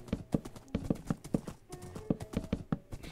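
Horse hooves clip-clop in a steady, even rhythm while riding in the video game Minecraft, clear and close, with a short tonal game sound partway through.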